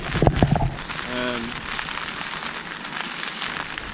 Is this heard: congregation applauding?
no